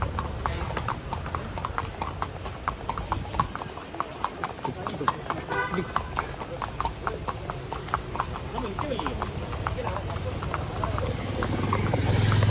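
Hooves of Bablu, a horse carrying riders near the Kodaikanal Boat House, clip-clop in a steady, brisk rhythm throughout, close and clear beneath people talking.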